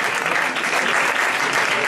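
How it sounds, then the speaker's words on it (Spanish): A steady burst of audience applause fills a hall at a television awards ceremony, dense and even clapping held at a moderate level for a couple of seconds. "Un aplauso para ella."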